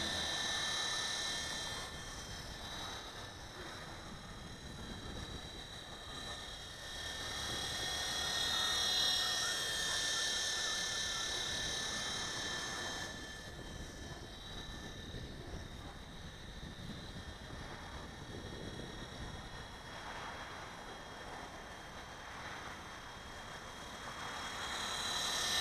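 A small WLtoys V915 Seeker remote-control helicopter flies outdoors in strong wind. Its steady high-pitched rotor and motor whine holds throughout and swells and fades slightly as it struggles against gusts, with wind noise underneath.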